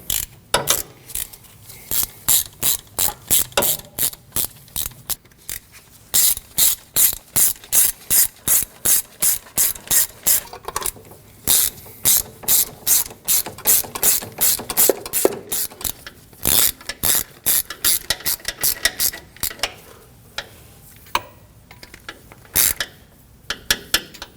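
A ratchet snugs down the knock sensor bolts on a 2015-2022 Chevrolet Colorado 3.6L V6, producing close, crisp bursts of rapid pawl clicking in repeated strokes, with short pauses between them.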